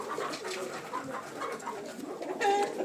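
Large pet birds coo softly and repeatedly in the background, layered over a steady low murmur of ambient noise.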